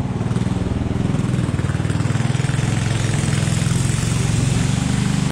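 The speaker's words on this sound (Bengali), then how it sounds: "সামনে একটা নৌকা আসতেছে" A motor boat engine drones steadily on a narrow, fast-flowing river, a loud continuous mid-pitched throb with a rapid pulsing rhythm and no talk over it.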